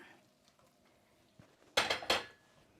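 Food being scraped out of a pan while cooking Indian coconut butter cauliflower, heard as two loud, close metallic scrapes after a quiet lead-in.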